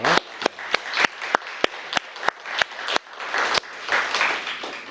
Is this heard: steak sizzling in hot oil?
no